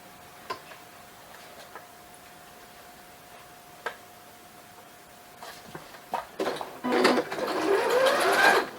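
A home sewing machine starts stitching fabric after a few scattered clicks and a faint hum, then runs in a rising rapid mechanical whir during the last couple of seconds.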